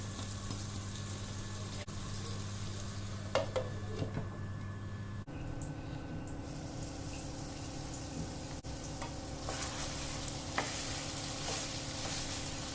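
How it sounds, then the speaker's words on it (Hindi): Mutton liver fries on a low flame and is stirred now and then, with a constant soft sizzle, occasional clinks and scrapes of a utensil, and a lid lifted partway through. "बस इसी तरह बीच बीच में ढक्कन हटाकर भूनते रहना है"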